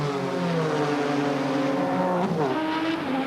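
Open-wheel 1996 Formula Holden race cars circle a street circuit during an Australian Grand Prix support race, their engines a steady loud flat drone with a pitch shift as a car passes.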